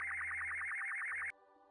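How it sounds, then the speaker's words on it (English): Kerbal Alarm Clock alarm in Kerbal Space Program, a bright electronic beeping tone pulsing rapidly and evenly for over a second, then cutting off abruptly into quiet game background. "Kerbal alarm clock slowing down my warp again."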